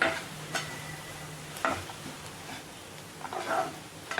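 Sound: sautéing carrots and beans in oil

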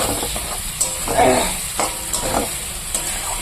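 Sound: spice masala sautéing in a pan

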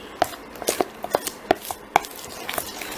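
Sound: stirring homemade slime mixture in a bowl

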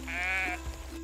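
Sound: sheep bleating in farming video game Everdream Valley

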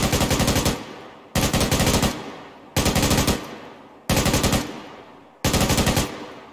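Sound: crew-served machine gun firing in a video game

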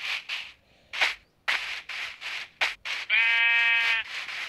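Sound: sheep bleating in Minecraft video game

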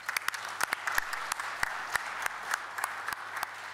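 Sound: audience applause

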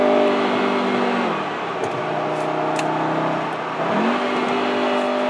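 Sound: VW Beetle R Line convertible engine revving

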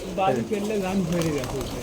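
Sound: pigeons feeding in a row

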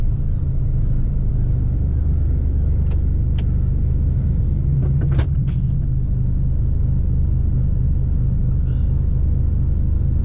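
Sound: truck engine pulling away gently with low revs

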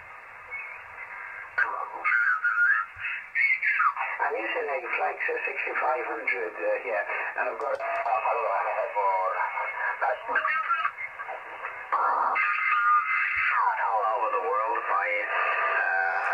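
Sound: amateur radio signal on Yaesu FT-817 internal speaker

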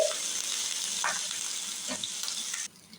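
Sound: spices frying in a pan

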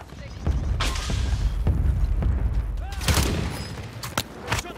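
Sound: sniper gunfire in the video game Call of Duty

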